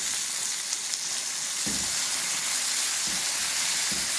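Tomatoes frying in a pan with garlic and peppers, a steady, dense sizzle and hiss close by, with a few soft low thumps of stirring underneath.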